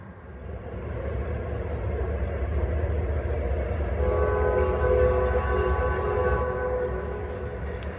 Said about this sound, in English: Oh great, there's a train coming.